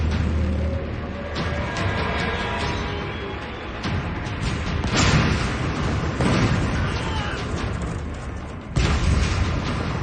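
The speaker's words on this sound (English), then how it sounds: "A bomb strikes the hospital dead on." A bomb blast striking a wartime hospital, a loud sustained roar of explosion and rumbling debris filling the scene, with further bursts and shouting voices mixed in.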